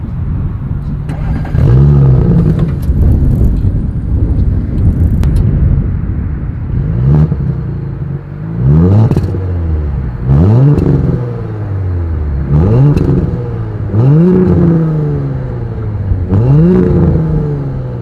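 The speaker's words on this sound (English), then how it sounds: "As always, here is that exhaust clip." A 2020 Audi S4 engine revs repeatedly, each throttle blip rising and falling in pitch with a deep exhaust rumble, roughly a dozen pulses at a steady rhythm.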